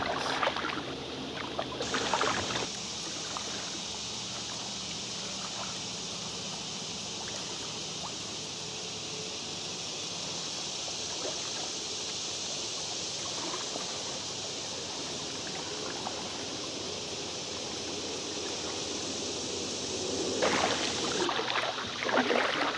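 A kayak towing a homemade cargo barge moves across open water, its hull and paddling making a steady, even wash of splashing and swishing that runs close and unbroken throughout, with no voices.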